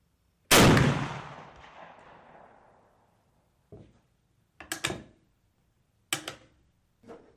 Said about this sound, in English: Then I can fire this rifle's first shot